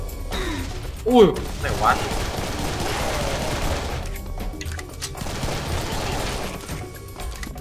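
Gunfire from Serious Sam 3 BFE, a steady wash of shots with a few sharper bursts near the start, running under a man's brief, startled speech.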